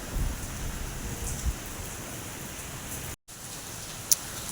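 Steady rain pours down outdoors in a Punjab village, a constant broadband hiss with a brief dropout and a single sharp tick near the end.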